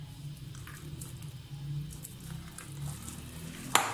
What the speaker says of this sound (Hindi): अब आपने इन सब चीजों को करना है मिक्स। ये देखो, अच्छे तरीके से मिक्स कीजिएगा